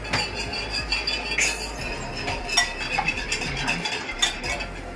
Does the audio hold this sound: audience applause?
no